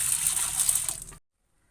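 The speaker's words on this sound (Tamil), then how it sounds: "இது தண்ணி ஊற்றி ஊற வச்சுக்கிறேன்." Water gushes from a tap or jug into a bowl of chana dal set to soak, a steady close splashing pour lasting about a second before stopping abruptly into silence.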